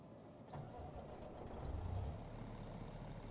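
A Western Star 49X truck in American Truck Simulator cranks and catches into a deep, rumbling diesel idle, steady and fairly quiet with no talk.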